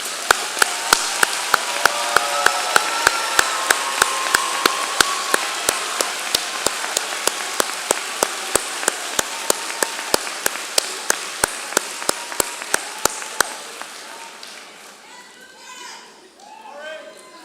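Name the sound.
audience applause for first-generation graduates at commencement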